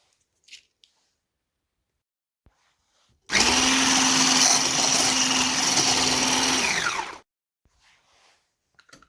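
An electric mixer whipping separated egg whites for apple-cherry muffins switches on and runs at a steady high whir for about four seconds, then stops, close and alone, with a few faint knocks before and after.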